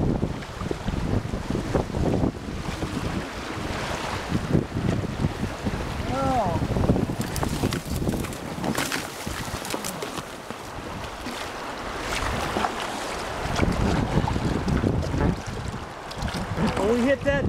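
White water of the Watauga River's rapids rushes and churns around a raft, a loud, turbulent wash with surging bursts, while people shout and exclaim over the noise.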